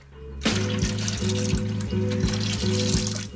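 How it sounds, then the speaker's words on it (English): Water draining from the removed coolant overflow reservoir of a Mazda MX-5 NA Miata during a coolant flush, a steady close splashing stream starting abruptly and running continuously with a faint rhythmic gurgle. "Now we can drain the overflow reservoir."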